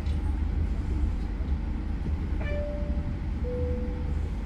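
The Fajar Utama Solo executive passenger train rumbles steadily from inside the carriage, a continuous low roar with a brief chime-like tone partway through and no talking.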